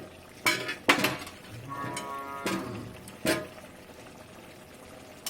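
Bori lentil dumplings drop into a pan of simmering poppy-seed paste for aloo posto, making a few distinct clinks and knocks against the metal, spaced over a few seconds with quiet bubbling between them.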